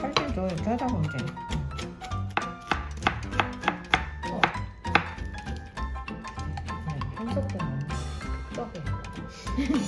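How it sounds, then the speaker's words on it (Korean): A knife chops zucchini into thin strips on a board for Korean banquet noodles, sharp rhythmic taps in quick irregular runs, close and clear, with a voice talking through the chopping. "칼질도 이렇게 하다 보면 돼."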